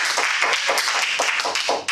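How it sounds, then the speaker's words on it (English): Enthusiastic, high-energy clapping from a Toastmasters meeting audience: dense, rapid, continuous applause from many hands, close and loud, with no talking over it. "could I get high energy, enthusiastic, supportive clapping?"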